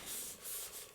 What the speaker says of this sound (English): let's just burnish all that, make sure that we've got it nicely glued